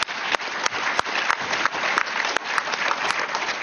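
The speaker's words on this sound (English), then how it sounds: "Oh, that was just a gimme applause" Loud audience applause fills the hall continuously with sharp clap transients throughout, a dense sustained ovation with no speech.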